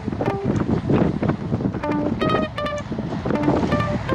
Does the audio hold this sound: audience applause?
no